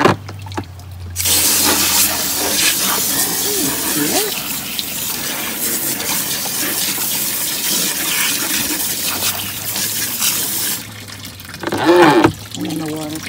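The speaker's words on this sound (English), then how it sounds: "And then the water pours in there." Tap water running hard into a kitchen sink while rhubarb stalks are rinsed, a loud continuous splash that stops near the end, with a person talking over it.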